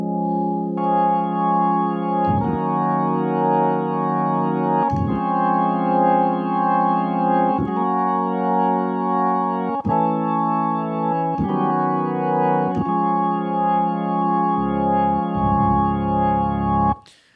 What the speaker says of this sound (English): Playing the Hammond B3, which is the classic sound of an organ.